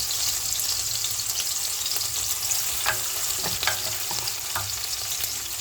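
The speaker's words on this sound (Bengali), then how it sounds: "পেঁয়াজ কুচি যতক্ষণ না ব্রাউন কালারের হচ্ছে ততক্ষণ আমি এটা নাড়াচাড়া করে কুক করে নেব।" Chopped onions frying in a pan for sutki fish curry, a loud steady sizzle with several scraping stirs of a spatula close by.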